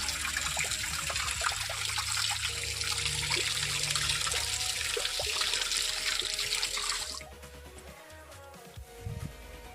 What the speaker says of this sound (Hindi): पानी चालू करी